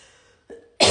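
A woman coughs during a live home workout session, a short throaty sound followed by a louder, harsh cough burst, close to the microphone.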